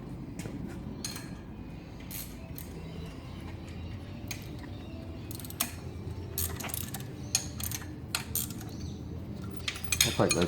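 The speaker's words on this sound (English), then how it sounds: "I'll take those two side bolts out." Bolts are worked loose from an engine mounted on an engine stand, with repeated metallic ratchet clicks and clinks of tools, close and fairly quiet over a low background hum.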